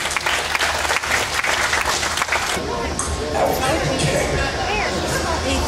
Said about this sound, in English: Have a nice round of applause for these guys up here.